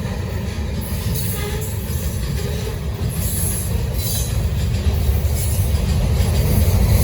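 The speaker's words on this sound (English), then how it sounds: "That's how loud this train is, how loud that ACC Leader is." A loud Norfolk Southern freight train rumbles past steadily and close on the Charlotte District, a continuous heavy roar with faint wheel squeal above it, growing slightly louder.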